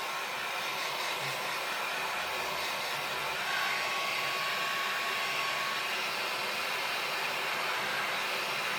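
A heat tool blows on crackle paste in a craft setting, giving a steady, even whooshing drone that runs continuously at moderate volume with no voices.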